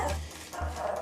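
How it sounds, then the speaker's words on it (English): A neighbour's dog gives two deep, short barks or woofs, nearby and fairly loud, with a brief pause between them and no talk. "And once we got Jenny, our neighbour complained about her barking 24 hours a day"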